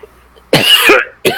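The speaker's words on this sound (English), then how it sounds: "We asked questions, you coughed in response." A person coughing up close: one loud, rough cough burst that breaks into two pulses, then a shorter second cough after a brief pause.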